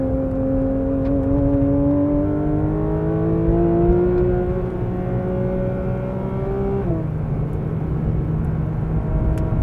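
A 2022 Porsche 911 GT3 runs hard on the Road Atlanta track, its engine holding a loud, steady high-rpm tone that climbs gradually through a corner before a quick drop at a shift, with no talk over it.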